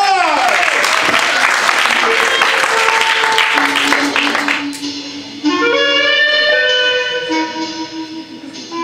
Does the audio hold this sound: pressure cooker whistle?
no